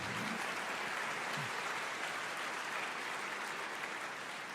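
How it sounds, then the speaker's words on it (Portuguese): Church congregation applauding during a sermon, a dense, even wash of clapping that holds steady and sounds somewhat distant and soft, with no voices clearly standing out. "Pode aplaudir o Senhor."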